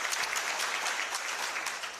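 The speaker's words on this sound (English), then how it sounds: "Please, another clap for him." Applause from an audience at the launch event for the Kenya County Budget Transparency Survey 2021, a steady, dense wash of many hands clapping throughout, fairly close and even in loudness, with no talking over it.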